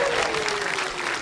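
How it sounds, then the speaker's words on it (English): An audience at a nano-themed juggling show breaks into brief, dense applause, a loud steady wash of many clapping hands with voices faintly underneath. "Okay, you can clap now"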